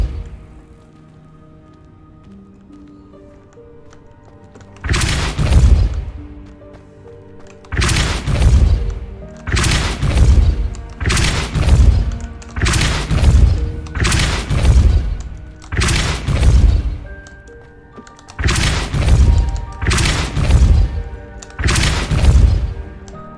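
Repeated Depulso force-push spell casts in Hogwarts Legacy, a quiet ambient opening and then about ten loud, booming thumps with crashing tails arriving in a fairly regular rhythm roughly every one to two seconds, close and punchy.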